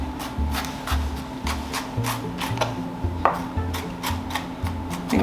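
A dull knife chops an onion into small pieces on a cutting board, tapping in an uneven series of soft, close knocks at a relaxed, irregular pace.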